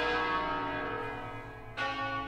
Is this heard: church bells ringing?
yes